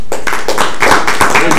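Board-meeting attendees in Phoenix give a round of applause: a loud, close burst of many hands clapping in uneven, overlapping pulses, with speech mixed in.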